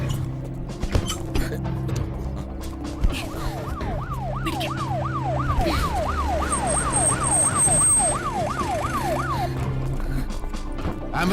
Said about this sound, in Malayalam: ആംബുലൻസ് സ്റ്റാർട്ട് ചെയ്യ്.